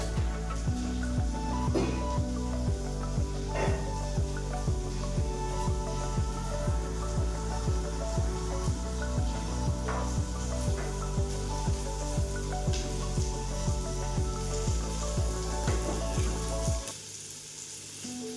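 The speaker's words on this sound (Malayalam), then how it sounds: "ഇവിടെ ചിക്കൻ വേവുള്ളത് നമുക്കൊന്ന് ഇളക്കി കൊടുക്കാം." Chicken curry sizzles and fries steadily in a pan while it is stirred, making a loud, continuous crackle with rhythmic scraping that stops abruptly near the end.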